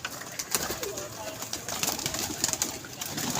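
Pigeons at a pigeon club coo softly amid a busy, noisy background, with occasional wing sounds and a voice talking nearby.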